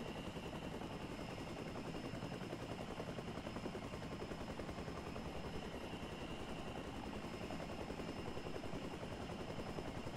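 Helicopter in the survival game The Front, a steady dense rotor-and-engine roar that holds at constant loudness throughout, with rapid chopping pulses running under a continuous drone.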